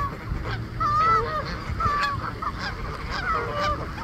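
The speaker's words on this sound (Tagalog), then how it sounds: "Mga geese." A flock of geese honking by a lake, with repeated nasal honks rising over a steady background of outdoor ambience and distant water sounds.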